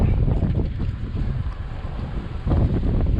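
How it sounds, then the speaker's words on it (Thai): Strong wind gusts through a deep mountain forest, roaring against the microphone in loud, continuous buffeting that swells again near the end, with no voices. "ลมพัดนะครับ"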